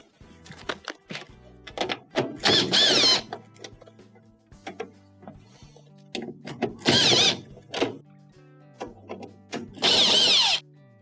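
Power driver spinning out Phillips screws from the back of a Frigidaire washer's console cover, three loud whirring bursts spaced apart, with clicks and handling knocks between them, close up and without talk.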